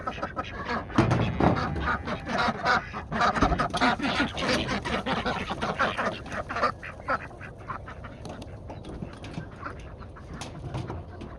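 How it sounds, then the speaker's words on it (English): Farm ducks quacking in a busy, overlapping chorus, loud and close at first with rapid bursts of calls, then thinning to scattered quacks toward the end. "The ducks aren't so bad, plus they're entertaining."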